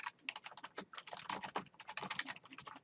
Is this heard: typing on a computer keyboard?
yes